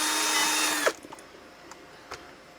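A power drill widening a hole in an RC car whines loudly for under a second, then stops abruptly, leaving faint clicks and knocks in a quiet room.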